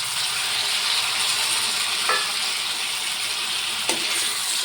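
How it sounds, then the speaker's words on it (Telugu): Potato pieces added to lightly fried onions in a hot pan give a steady, loud sizzle with a couple of brief stirring scrapes. "ఆనియన్స్ లైట్గా ఫ్రై అయ్యాయి కదా, ఇప్పుడు మనం పొటాటో అదే బంగాళదుంప యాడ్ చేసుకుందాం."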